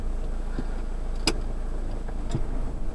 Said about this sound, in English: Don't worry about the clicking